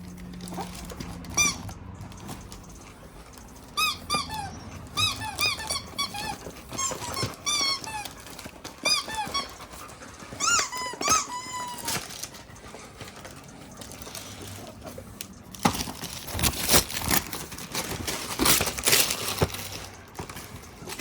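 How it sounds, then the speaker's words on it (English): Squeaker toys being stepped on by a dog give a run of high, close squeaks in short clusters, followed by louder pattering and rustling near the end. "Standing on her squeaker toys."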